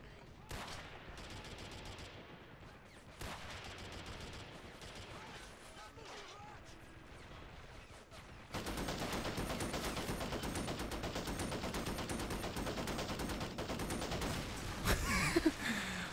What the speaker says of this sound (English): Here's the machine gun position. And as everyone's wanted, it is engaging troops on the ground.